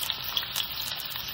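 Onions are tossed into hot olive oil in a pan and give a bright, even crackle of frying that holds steady through the short moment, with no voices.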